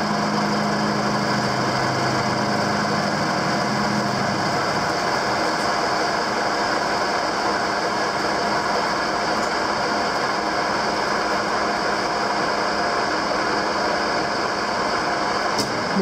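A metal lathe takes a power-fed finishing cut on a cube workpiece, giving a steady, unbroken machine hum with a thin whine running through it, close and constant, with no talking.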